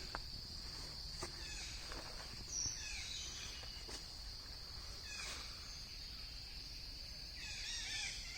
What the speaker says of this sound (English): Standing right here, we can hear lots of bird call, because this temple still covered by numbers of trees